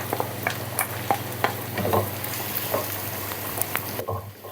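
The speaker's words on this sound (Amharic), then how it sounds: "ጁብና ህሉሚ ትንሽ ጠበስ ጠበስ አደርገዋለሁ እንደዚህ" Cheese and halloumi fry with mushrooms and onion in a pan, a quiet sizzle under frequent stirring scrapes and clicks, close and fairly faint, with no talking.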